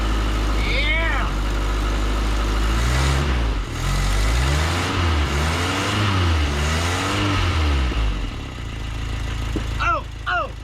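Engine of a 1979 Chevy LUV pickup running and idling with wavering, surging revs, loud and close, with people talking and shouting over it.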